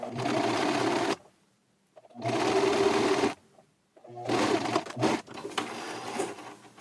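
A sewing machine double-stitches shirt fabric near a sleeve trim, running in three close, loud bursts of rapid needle chatter separated by short pauses.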